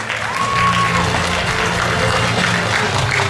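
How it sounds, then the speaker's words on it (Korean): An audience at the award ceremony of a belly dance competition at a festival in Yanggu, Gangwon Province gives a loud, sustained round of applause, with a faint crowd murmur underneath. "큰 박수 보내주시기 바라겠습니다"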